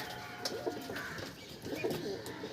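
Pakistani teddy pigeons coo softly in a loft, several low, rounded coos repeating at intervals over a steady background hum, with a few faint chirps in between.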